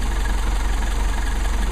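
A Mercedes 190SL engine idles steadily during a carburetor test, with a close, even, low rhythmic throb that stays constant throughout.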